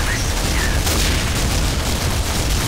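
Grenade blast in Counter-Strike 2 zombie mode, a dense boom-heavy roar filling the whole moment with rumbling low end and scattered gunfire-like crackle, loud and continuous with no clear single onset.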